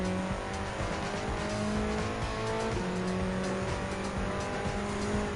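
Engine note and tire squeal from a 1981 Porsche 911 Turbo Type 930 being overtaken in a Gran Turismo 7 race on Alpine Hill, a steady loud racing drone with sustained tonal whine and skidding, no talk.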